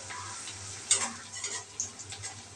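Onion frying in a pan for stuffed capsicum, with a soft steady sizzle, a few brief stirring scrapes and clinks, and a low hum beneath; no talking.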